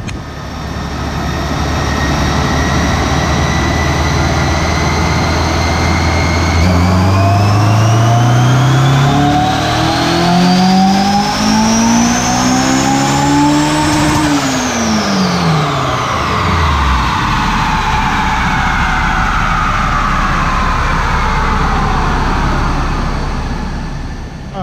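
A turbocharged Honda S2000 with a Kraftwerks turbo kit, running at 14 PSI on a dyno: one loud, sustained pull with the engine note climbing steadily to a high-rev peak, then dropping back off, close and continuous.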